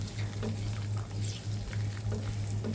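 Dried chili and chopped garlic fry in oil for a khichdi tempering, a dense, steady sizzle with a low hum running underneath and small pops scattered through it.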